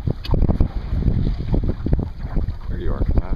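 A Montgomery sailboat under sail near Santa Cruz, with strong wind buffeting the microphone and rushing water around the hull, steady and close throughout.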